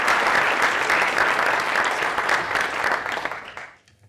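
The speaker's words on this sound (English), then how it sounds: "let's give another round of applause for Jas." A conference audience at a plenary session applauds a speaker, a loud, dense burst of clapping that holds steady for several seconds and then fades quickly to near silence.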